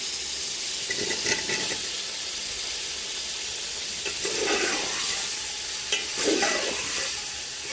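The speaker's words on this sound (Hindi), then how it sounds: "अब गाजरें डालेंगे, साथ ही आलू भी ऐड कर देते हैं।" Carrots and potatoes are stirred in a hot frying pan for an aloo matar gajar pulao, giving a steady close sizzle with scraping stir strokes and bursts of hiss, no talking.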